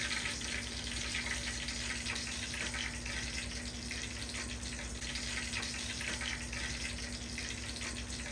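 Shrimp deep frying in oil held at 350 degrees Fahrenheit, a steady dense crackling sizzle that stays even and close throughout with no voices.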